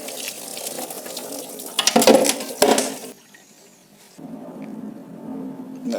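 Engine oil draining from a BMW E39 M5 V8 during an oil change, a steady splashing pour into a pan that briefly grows louder with a few drips, drops off, then resumes as a softer trickle.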